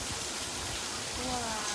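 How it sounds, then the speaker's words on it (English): Artificial rain from studio-tour effect sprinklers at night, a constant loud hiss of falling water splashing on surfaces, with faint voices mixed in. "that's enough rain, man. You're gonna flood it."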